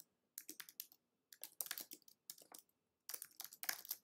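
Quick bursts of typing on a computer keyboard, with short clicky keystroke runs separated by brief pauses, close and fairly quiet with no talking.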